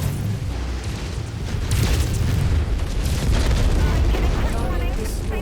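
Weapons barrage striking a Locust mech in MechWarrior 5, a heavy continuous rumble of booming explosions that swells louder midway, dense and close with no pauses.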